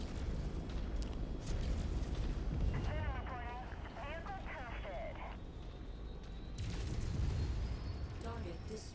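Video game explosion as a target is destroyed in a combat mission, a deep, rumbling boom spread over several seconds with a later second surge, heard under ongoing game radio chatter and voices.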